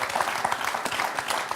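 Studio audience applause for a contestant on the French quiz show Questions pour un champion, a short burst of dense clapping filling the room.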